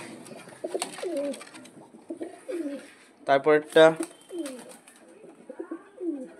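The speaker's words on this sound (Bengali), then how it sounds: "সব পায়রা চলে এসছে বাড়িতে" Pigeons coo in soft, repeated throaty bursts on a house roof, and a person talks quietly now and then.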